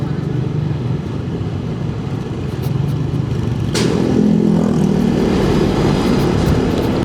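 A Yamaha XMAX 250 scooter with a 250 cc engine rides along a road, its motor humming steadily and loudly, with wind rush and a slight rise in engine note partway through.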